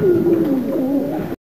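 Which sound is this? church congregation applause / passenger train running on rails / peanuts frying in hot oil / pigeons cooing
pigeons cooing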